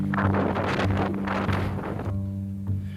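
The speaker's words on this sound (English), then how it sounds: "It's windy." Gusting wind during the Atlas Mountain Race, a long-distance mountain bike race, buffeting the microphone in uneven rumbling bursts up close, with a brief calmer gap before another gust.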